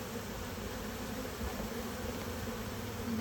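A honeybee swarm around a nuc box, a dense continuous buzzing of many bees, fairly faint and steady with no voices.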